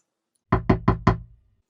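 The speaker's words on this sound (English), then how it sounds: "Oh, that's the secret knock." Four evenly spaced knocks rap on a door as a secret knock signal, loud and close, each with a hollow woody thump, then silence.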